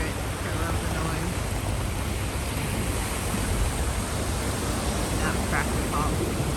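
Continuous broadband rumble and hiss of Arctic sea ice north of Svalbard grinding along a ship's hull, with scattered crackles and pops throughout, steady and close.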